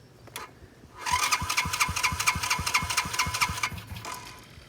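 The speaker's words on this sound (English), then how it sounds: "start your four-wheeler" Four-wheeler ATV engine cranking and catching, a close burst of rapid starter pulses turning into a quick, uneven motor run that fades off after a few seconds.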